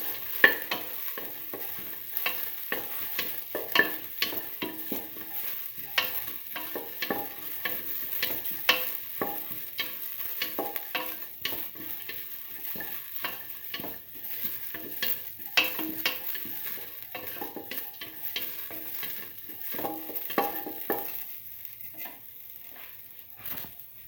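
Onions sautéing in a pan give a steady, close sizzle, broken again and again by the scrape and clatter of stirring. The stirring keeps an even rhythm from start to finish, with no one talking.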